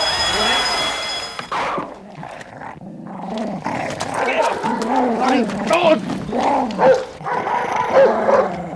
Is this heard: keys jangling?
no